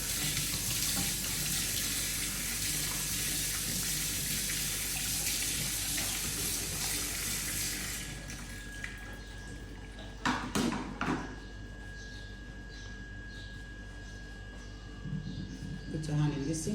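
A five-year-old child washes a plate, spoon and cup under a running tap in a sink, the steady water hiss lasting about half the time before clinks and handling sounds, with adults talking throughout.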